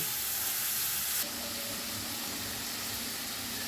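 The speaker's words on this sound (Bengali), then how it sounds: "মশলাটা আমি ভালোভাবে কষে নেব" Spice paste for Bengali rui fish kalia fries in a pan with a steady, close broadband sizzle that drops slightly in level partway through and carries on alone.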